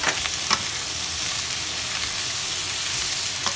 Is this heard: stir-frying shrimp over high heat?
yes